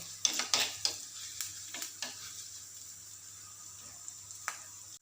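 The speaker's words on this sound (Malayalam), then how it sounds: "അപ്പോൾ ആ ഇഞ്ചി വെളുത്തുള്ളിയൊക്കെ നല്ല പോലെ ഒന്ന് മൂത്ത് വരട്ടെ" Ginger and garlic fry in a pan for a quick curry, a low sizzle under several sharp spatula scrapes and taps that come in a burst early, then thin out, near and fairly quiet.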